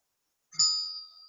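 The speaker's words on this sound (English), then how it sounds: "This is the bell of my teacher." A Buddhist shrine bell is struck once with a soft thud, then rings out with a clear, bright metallic tone that slowly decays, heard alone and close.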